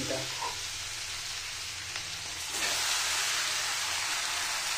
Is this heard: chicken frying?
yes